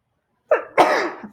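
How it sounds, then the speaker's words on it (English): A single loud, close sneeze with a short intake followed by a sharp burst, heard alone with no talk. "Hang on, I think I have to sneeze."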